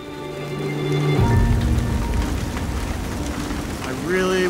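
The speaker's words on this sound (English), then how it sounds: "We're definitely getting hailed on." Hail pelts a rider on an electric Zero DSR adventure motorcycle on a muddy Rocky Mountain trail, a dense continuous patter with steady broadband hiss and a low motor hum underneath, strong and close throughout.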